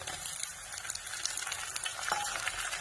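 Onion, green chili, garlic and tomato frying in a pan, giving a steady bright sizzle with small crackles and pops, close and continuous, no voices over it.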